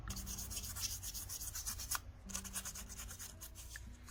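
Fine 1200-grit sandpaper rubbing over wire-wrapped spirals on a craft owl, a steady close scratchy rasp that runs continuously with brief pauses and strokes.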